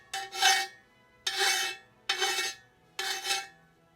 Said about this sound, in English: Aluminum is really soft, so the file works fast.